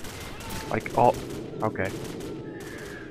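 Bursts of gunfire crackle in the Call of Duty: Modern Warfare video game, a few short volleys near and fairly loud, with someone talking briefly over them.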